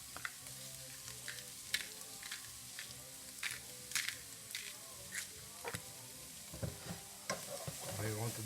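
Bolognese sauce is stirred in a pan, with soft, rhythmic scrapes and squelches roughly every half second over a quiet background simmer, all fairly faint.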